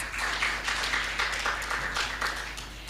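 Audience applause greets a panelist at the launch of a Kenyan plastics partnership, moderate steady clapping from a room crowd lasting a few seconds, somewhat muffled and even.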